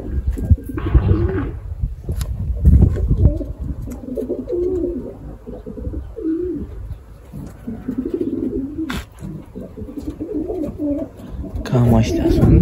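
Pigeons cooing in a backyard coop with rabbits kept nearby, soft low rolling coos repeating throughout under a steady background murmur, with a few brief louder noises.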